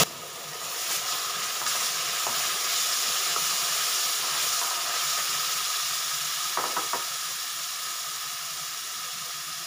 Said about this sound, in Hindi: इसको हम खूब अच्छे से फ्राई कर लेंगे।